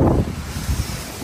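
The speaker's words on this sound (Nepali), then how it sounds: "के हो हावा चल्यो" Gusty wind blowing outdoors during cherry blossom season in Korea, a rough broadband rush of buffeting against the microphone with low rumbling pulses, brief and fairly close.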